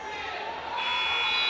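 A period-end buzzer sounds at a high school wrestling match in a gym, a loud sustained electronic tone that starts partway through the clip over crowd noise and talk.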